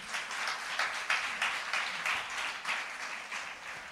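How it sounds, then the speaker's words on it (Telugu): A church congregation claps joyfully together, producing a continuous patter of many hands at moderate volume, evenly sustained with slight swells throughout. "కొద్ది సంతోషంతో చప్పట్లు కొట్టండి."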